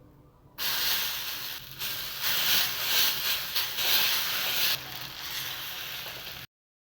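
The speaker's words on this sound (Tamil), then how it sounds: "அந்த மாவு ஊற்றிக்கலாம்" Onion-mixed batter poured into a hot pan sets off a loud, close, broad sizzling hiss that swells in waves for several seconds before cutting off.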